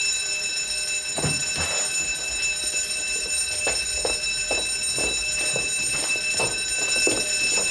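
An alarm rings at a hall, a continuous high electric ringing heard at a moderate level throughout, with scattered soft knocks and thuds beneath it.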